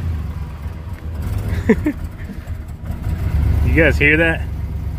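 An old lawn care truck, unused for a week, runs with a rough, steady engine rumble and a few chirping, squealing rises, while someone talks over it.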